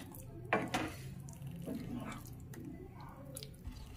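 Spices with dried fenugreek leaves and garam masala being mixed in a cooking pan for paneer butter masala, soft clinks and wet stirring scrapes at moderate volume.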